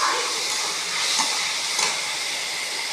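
Tomato, garlic and spices sauté in a pan, producing a continuous bright sizzle and hiss close up, with faint stirring scrapes now and then.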